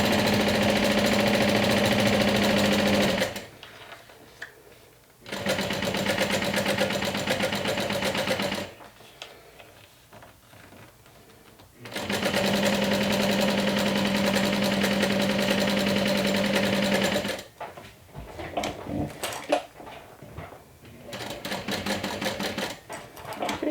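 A sewing machine stitches a double-slider adjustable bag strap, running in several long, steady, loud whirring bursts broken by brief pauses.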